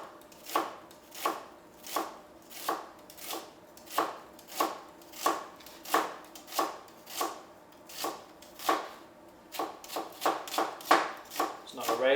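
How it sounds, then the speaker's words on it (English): A knife finely slices red onion on a chopping board, with steady, even cuts repeating about every half second, close and clear. "So use that claw and finally slice that onion"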